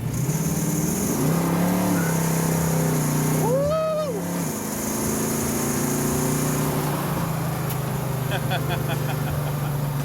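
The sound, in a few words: 1970 Ford Mustang 428ci V8 accelerating on test drive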